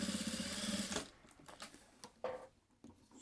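A sewing machine runs a short burst of stitching, attaching milk-carton pieces to a fabric lining for a patchwork pouch. It whirs steadily for about a second, then stops, followed by light handling sounds.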